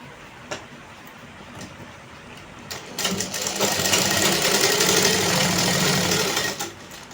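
Sewing machine stitching the side seams of a circular palazzo, a steady rapid whirring run that starts after a few seconds of quiet handling and continues loudly for several seconds before stopping.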